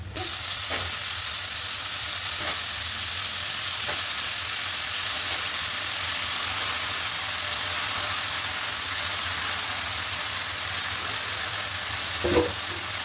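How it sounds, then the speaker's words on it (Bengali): Onions and green chillies fry in hot oil, a steady broadband sizzle running evenly throughout with a few faint clicks of a utensil, no voices. "তো এই যে পেঁয়াজ কাঁচামরিচ ভেজে নিচ্ছি।"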